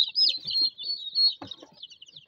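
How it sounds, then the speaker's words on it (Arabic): Turkey chicks chirping up close, a run of high, thin peeping calls with a brief soft rustle partway through. "في كتاكيت هندي ثانيه معانا هنا"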